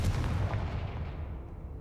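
A Confringo fire spell cast in a Harry Potter video game gives a loud, dense burst like a blast that fades out steadily over about two seconds.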